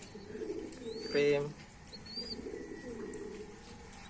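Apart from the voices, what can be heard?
Lahore pigeon cooing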